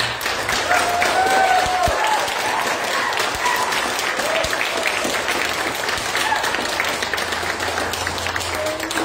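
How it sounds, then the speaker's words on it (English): Sustained applause from an audience at a Scout troop Court of Honor greets a newly ranked Life Scout, a dense, even wash of clapping filling the room for about nine seconds with a few voices mixed in. "Can we please get a big round of applause for our new Life Scout?"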